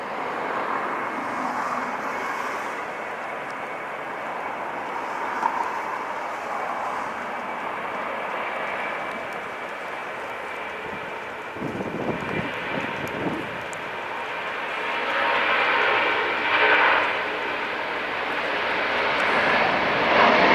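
Jet aircraft engines roar steadily as a plane takes off at LAX, a sustained far-to-mid-distance drone that swells louder toward the end, with a few brief low thumps in the middle.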